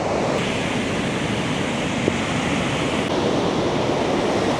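White River Falls in Eastern Oregon roars as a steady, loud, broadband rush of falling water, heard close and continuous with no voices throughout.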